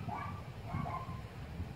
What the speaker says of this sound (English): The dogs are barking in the neighborhood, it's crazy.